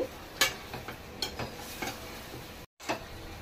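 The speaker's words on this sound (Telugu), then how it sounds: "ఇలా వేసి కలిపి చక్కగా దగ్గరికి అయ్యేలాగా కలుపుకోవాలి." Masala stirred into chicken curry in a pan, with repeated close scraping and clinking strokes of a spoon against metal over a low sizzle, roughly one stroke every half second, with a brief silent gap near the end.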